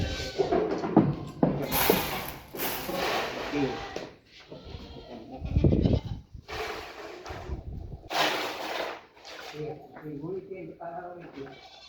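Goats on a farm holding about 200 animals bleat loudly and repeatedly, several overlapping calls near and far, with someone talking between and over them.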